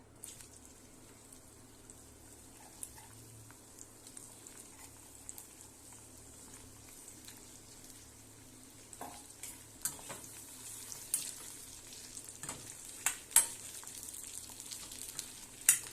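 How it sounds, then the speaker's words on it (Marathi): Okra sautéing in oil gives a faint, continuous sizzle that grows busier and crackles more toward the end, with scattered clicks of stirring. "सर्वप्रथम आपण तेलामध्ये भेंडी परतून घेऊया"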